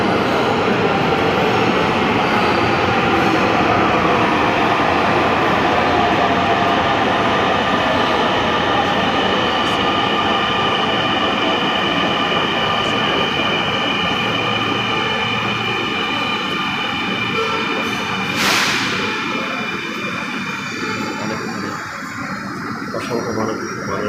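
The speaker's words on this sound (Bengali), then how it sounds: "এই যে আরেকটি ট্রেন আসলো" A Dhaka metro train pulls into Motijheel station, a loud sustained rumble and whine of rolling wheels and motors filling the platform throughout, with a brief hiss near the end and faint voices underneath.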